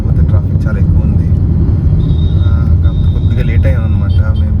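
Dense road traffic with a steady low rumble of engines, passing vehicles and occasional horn-like tones, loud and continuous while a voice talks over it.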